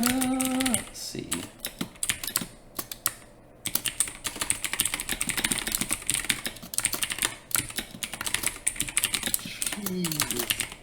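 Rapid clattering keystrokes on a computer keyboard run nearly continuously and close to the microphone, with a few brief pauses; a short voice-like tone sounds at the very start and again near the end.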